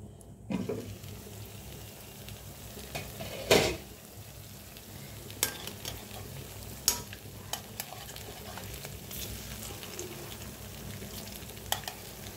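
Vegetable pakoras fry in a covered pan and get flipped over, producing a quiet, continuous sizzle with a few scattered clanks and scrapes of the utensil, and no speech.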